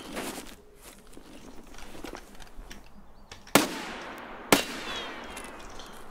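Two sharp, loud gunshots from a 9x19 weapon in Escape from Tarkov, spaced about a second apart and following a stretch of faint shuffling and quieter background movement.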